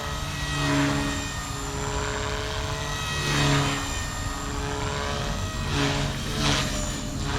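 A Blade Fusion 180 SMART RC helicopter flies on its first flight with a continuous whining rotor and motor drone. The pitch and loudness swell and fade several times as it manoeuvres nearby, and no voices are heard.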